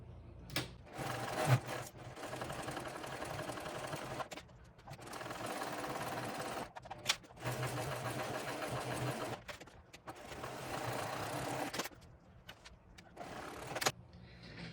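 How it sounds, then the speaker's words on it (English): A sewing machine top stitches a backpack in several bursts of steady running, each lasting a few seconds and separated by brief pauses, close and fairly loud. "we're gonna top stitch, and we're also going to baste the top and the bottom"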